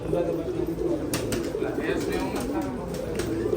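Pigeons coo softly and repeatedly, close by, over a steady background hum with a few faint clicks.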